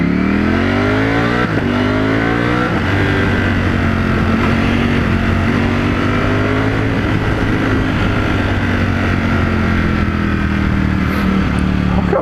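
A Ducati Panigale V4S motorcycle accelerates hard on the road, its engine note climbing through rising gear pulls with a brief shift break, loud and close from a rider's perspective, with no talk.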